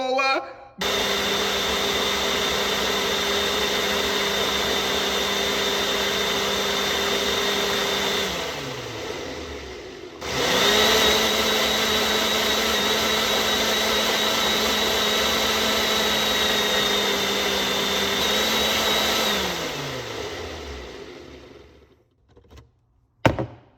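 A Ninja blender blends fruit in two long runs. Each run is a loud, steady motor whine that winds down at the end, with a short pause between them and a clunk as it stops.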